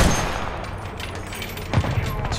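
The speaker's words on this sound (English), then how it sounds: "terrible shooting" Gunfire from an M8 LAC in War Thunder ground battle, dense rapid bursts of shots with heavy low booms, loud and continuous, with a voice speaking faintly underneath.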